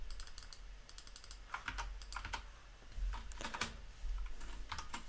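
Fast, uneven typing on a computer keyboard while working on a JavaScript command-line app, with bursts of sharp key clicks close up and no talking.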